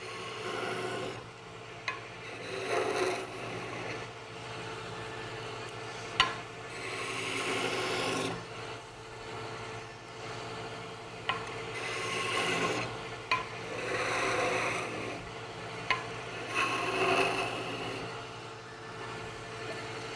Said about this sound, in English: I'm scribing in and severing the fibers, and then I'm going back and cleaning them out, trying to get closer to the final diameter here.